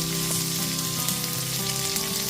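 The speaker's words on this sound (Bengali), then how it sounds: "এর মধ্যে একটা মিডিয়াম সাইজের পেঁয়াজ কুচনো দিয়ে দিচ্ছি পেঁয়াজটা আমি একদম মিহি করে কুচিয়ে নিয়েছি গ্যাসের ফ্লেম লোতে রেখে হালকা করে একটুখানি ভেজে নিচ্ছি" Finely chopped onion frying gently in a pan over a low gas flame, a steady, even sizzle with soft crackles, continuous and close, with no voices.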